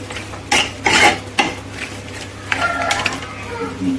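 Goat meat curry mixed with fresh coriander, coriander powder and garam masala: a few loud, close spoon-scraping strokes against the pot, then softer, ongoing clatter and stirring.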